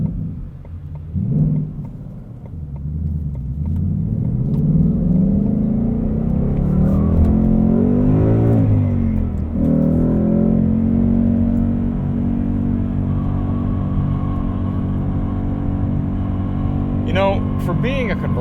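A 2020 Ford Mustang GT Premium convertible V8 accelerating, a deep rising engine note that swells and shifts through revs, steady and close, with a driver talking throughout.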